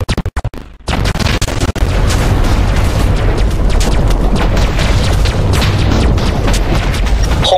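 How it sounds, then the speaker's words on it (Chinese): Minecraft airstrike bombing: a few sharp blasts open, then a heavy, continuous barrage of booming explosions rolls on loud and dense without pause. "轰炸已执行完毕，检测基本存活率为零。"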